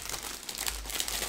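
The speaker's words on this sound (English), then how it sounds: "so we've got crinkle alerts." Plastic packaging from a Diamond Art Club Clockwork Dragonling diamond art kit crinkles close up in a short, continuous rustle, with no voices.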